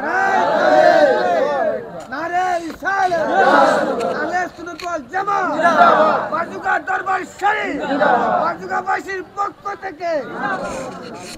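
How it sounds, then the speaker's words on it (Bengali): A large crowd at an Islamic religious gathering (mahfil) in Bangladesh shouts a takbir chant in loud, rhythmic call-and-response waves, with many voices rising together and falling in repeated rounds. "তাকবীর দেন একটা"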